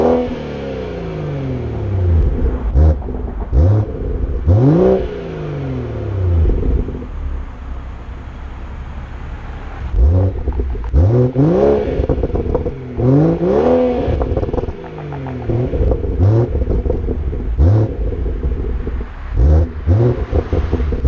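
A BMW 440i Stage 1 with an upgraded exhaust revs hard and repeatedly, each loud swelling vroom rising and falling, in bursts separated by short idle pauses.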